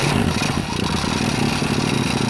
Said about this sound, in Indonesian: Lalu kita hidupkan motornya.